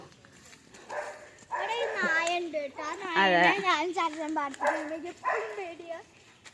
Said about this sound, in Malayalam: എവിടെയാണ് നായ അപ്പുറത്തെ വീട്ടിലല്ലേ